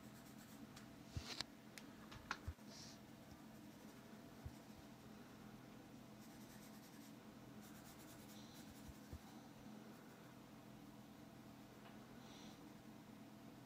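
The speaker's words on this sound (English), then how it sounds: "I have to go in with a fairly sharp charcoal pencil and draw" A sharp charcoal pencil scratches softly across paper while darkening a dog portrait, faint steady strokes with a few louder taps over a low constant hum.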